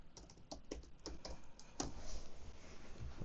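Someone types an admin password on a computer keyboard while setting up a TP-Link Archer A8 router: a rapid, uneven run of close key clicks, with a couple of louder keystrokes standing out.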